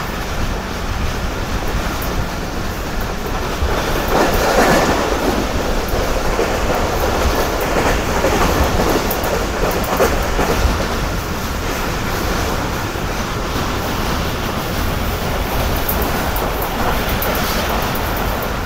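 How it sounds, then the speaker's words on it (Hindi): The Karakoram Express in Pakistan, with old coaches, races at speed past Sheikhupura Junction: a loud, steady roar of wheels and rattling carriages runs unbroken throughout, with no talking. "बहुत कमाल की स्पीड ट्रेन ने स्किप किया शेखुपुरा जंक्शन को"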